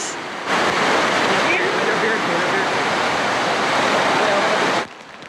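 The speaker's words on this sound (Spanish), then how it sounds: "Lluvia copiosa con truenos y relámpagos." Steady, dense roar of heavy rain with thunderstorm mixed with rushing floodwater, loud and continuous for several seconds before cutting off abruptly.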